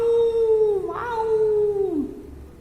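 A voice imitates a tiger's roar as a single long, drawn-out howling cry that slides slightly and drops in pitch at the end, heard up close and alone.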